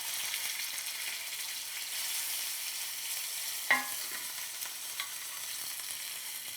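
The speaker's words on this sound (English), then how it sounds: "we're going to sear the steak and cook it all the way through. Oil in the pan is super hot." Steak sears in a very hot oiled pan, heard as a soft, even sizzle close by. A single sharp clink and a couple of small taps cut through the steady hiss, with no voices.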